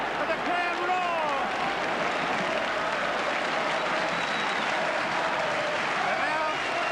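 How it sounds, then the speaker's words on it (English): A rugby league stadium crowd at a St Helens versus Australia match claps steadily in sustained applause, dense and continuous, while a commentator speaks over it. "And now they remember to applaud their team who've done so well."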